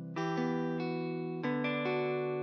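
Sustained guitar chords strummed through a processed, effected tone, each new chord ringing out over the last with smooth, lingering sustain.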